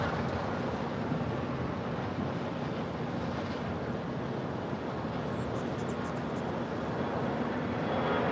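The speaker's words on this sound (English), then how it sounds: "there's a private jet about to take off" A private jet at LAX spools up for takeoff, giving a steady broadband roar that holds level throughout, heard from a distance with wind-like noise and no talking.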